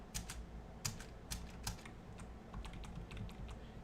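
Computer keyboard keys pressed in quick irregular bursts of sharp clicks, near and fairly quiet, with no voices, while a user works in Kali Linux.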